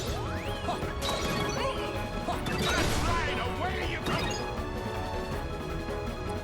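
Something shattering in Kingdom Hearts 2 Final Mix, a busy crash of breaking, cracking impacts and whooshing effects swirling over game music, peaking midway before settling back into the steady musical score.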